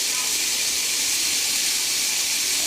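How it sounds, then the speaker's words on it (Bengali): Potatoes fry in a little oil in a pan over moderate heat for alu potoler dalna, giving a steady, even sizzling hiss throughout with no talking. "একটু লাল হওয়া পর্যন্ত আমি এটাকে ভেজে নেব"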